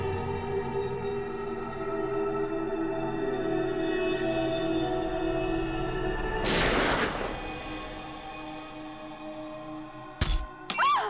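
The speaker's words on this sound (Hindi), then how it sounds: "अरे गोली चलने की आवाज आई" A loud sharp gunshot bursts out amid steady background hum and a faint repeating beep, followed by two more quick sharp gunshot cracks near the end.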